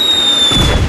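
The Pyre Ball fire attack in South Park: The Stick of Truth bursts out as a loud, close fiery blast over a steady game background tone, lasting under a second with no talk.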